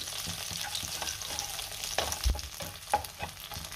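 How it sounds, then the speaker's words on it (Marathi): Pounded masala spice paste fries in oil for a spicy brinjal dish, a soft sizzle broken by a few scraping knocks of a spoon stirring the pan, close and fairly quiet. "ह्या तेलामध्ये आपण जो मसाला कुटून घेतलाय हा मसाला चांगला फ्राय करून घ्यायचा, परतून घ्यायचा चांगला तेलावरती"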